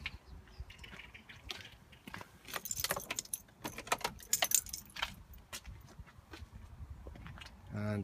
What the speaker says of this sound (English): I can turn the ignition on.